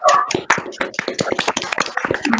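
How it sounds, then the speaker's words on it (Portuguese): An audience applauds with dense, irregular hand claps, close and lively, sustained through the short stretch with a brief voice at the start. "Álvaro, só para concluir da Maria Helena, eu quero que vocês batam palma, porque eu vou filmar e eu quero que eles escutem as palmas"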